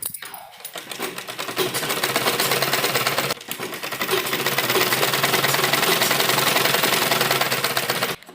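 Sewing machine stitching an embroidered suit with lining, running loud and close in a fast, steady mechanical whir with a brief pause partway through.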